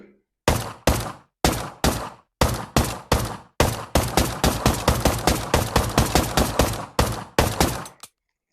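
Gunshots in a VR zombie shooting game on Oculus Quest 2, sharp loud bursts fired in short groups and then a faster rapid string, close and without talk.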